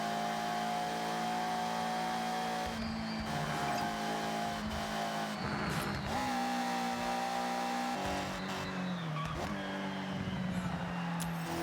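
A slow car in the racing game Forza Horizon drones steadily at low revs, its engine note climbing and dropping with gear changes and brief tire noise, continuous and clean with no talk.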